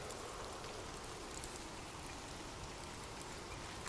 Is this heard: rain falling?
yes